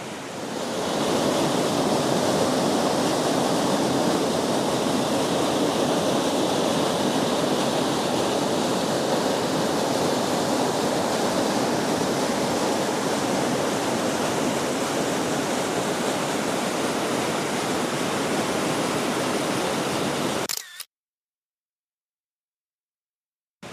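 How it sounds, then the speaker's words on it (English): A constant roar of a waterfall on a Tennessee trail fills the air for about twenty seconds, then cuts off abruptly into silence. "It's too bad you can't see the waterfall."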